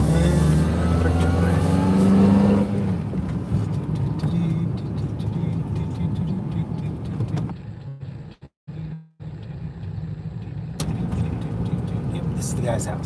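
A car's engine and road rumble run steadily throughout the drive, with a brief dip near the end, while people talk inside over the noise.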